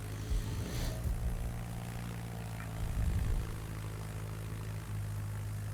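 Rocket planes' aircraft engines in the World of Warships naval battle game drone steadily, with a louder propeller-like swell near the start and again around the middle, under a constant low game rumble.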